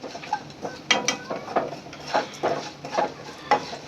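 A spoon stirring leftover cooked rice in a pan, giving repeated scraping clinks in an uneven rhythm, fairly close and moderately loud with no talking.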